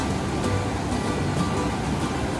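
The Khairi river at Ramtirtha in Mayurbhanj, Odisha, flows with a continuous broad rushing wash, steady and fairly loud with faint surging pulses and no speech.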